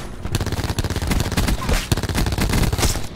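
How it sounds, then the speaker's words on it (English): Rapid automatic gunfire rattles out in dense bursts during a Call of Duty Black Ops 4 match, loud and close, with brief gaps between volleys. "whoever you see, just try to take shots at them"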